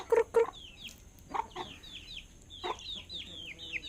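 Chickens on a farm cluck in short bursts up close, mixed with high, thin chirps from chicks repeating in the background at modest volume.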